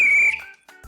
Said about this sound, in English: She blew her whistle.